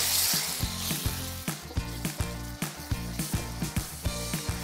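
Finely chopped large onions sautéing in a pan for Malvani misal, a bright sizzle under a rhythmic run of clinking, scraping stirs about every quarter second, with no talk.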